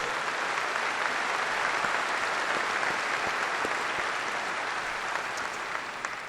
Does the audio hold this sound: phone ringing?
no